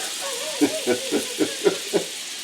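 Butter hits a hot pan while smothered chicken is being cooked, giving a steady faint hiss broken by a run of soft, evenly spaced popping pulses.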